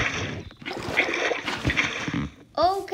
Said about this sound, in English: Okay, we got some water.